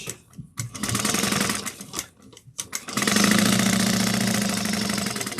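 A sewing machine stitches a bag's pocket piece onto zipper tape in quick, fast-whirring bursts with short pauses between them, then settles into a longer, steady run of stitching, close by.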